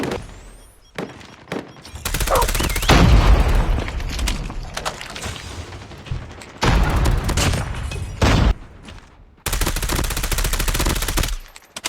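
Rapid automatic gunfire in Call of Duty Mobile rattles out in loud bursts separated by short pauses, with sharp booming shots and no talking.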